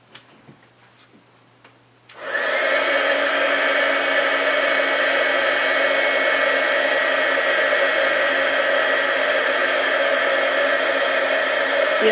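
A heat embossing gun switches on after a few small clicks and blows a loud, steady whooshing hum close by for about ten seconds without pause.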